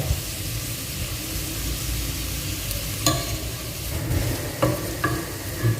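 Butter added to long beans with chopped green chilli in a pan, frying with a steady close sizzle and stirring, a few sharp clinks of a utensil against the pan toward the end.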